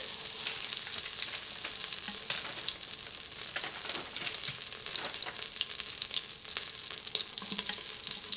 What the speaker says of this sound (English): while our butter is melting